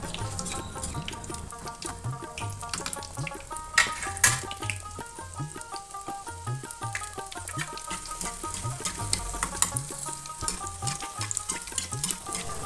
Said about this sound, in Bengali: তেলটা খুব ভালোভাবে গরম হয়ে গেলে আমি পিঠাগুলোকে এক এক করে ছেড়ে দেব।